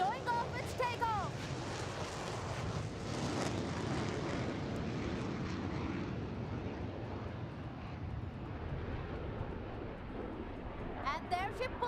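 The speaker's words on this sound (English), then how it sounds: "And here she goes, Tejas showing off its takeoff." A Tejas fighter jet taking off at the Aero India 2021 air show, a broad sustained engine roar heard from a distance outdoors, with wind buffeting the microphone and a voice narrating over it.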